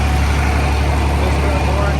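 A farm machine's engine running loud and close with a steady low rumble as it is given a little gas, a voice speaking over it.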